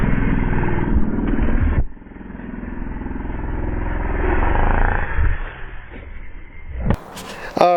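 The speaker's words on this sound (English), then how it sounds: "That was one wheelie too many." A cheap $50 motorbike revs hard through wheelies, its engine roaring loud and close with a sharp drop in throttle near two seconds, then climbing again before a clattering knock near the end.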